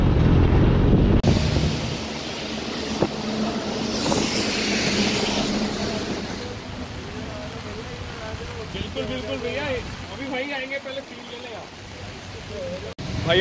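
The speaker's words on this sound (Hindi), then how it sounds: "बारिश हो रही है ना" Heavy rain and gusting wind buffet riders on superbikes during a motorcycle ride, a steady broadband roar filling the whole stretch with voices talking over it.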